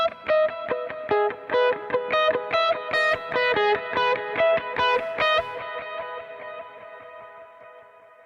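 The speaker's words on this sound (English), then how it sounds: "my first delay is an eighth note and my second delay is a dotted eighth." Electric lead guitar for worship music through two delays, one on eighth notes and one on dotted eighths, so each picked note spawns a dense cascade of overlapping repeats that ring on and fade out at the end.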